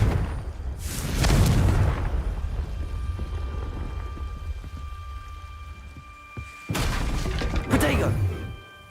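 Confringo fire-blast spells from the Hogwarts Legacy video game: two loud booming bursts, one near the start and one near the end, with a rumbling tail between them and a voice speaking underneath.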